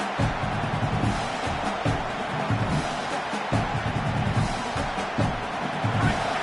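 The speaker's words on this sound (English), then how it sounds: "listen to this crowd noise. This stadium is vibrating." A large crowd roars continuously at a football game, a dense, loud wash of voices with rhythmic swells, like a packed stadium.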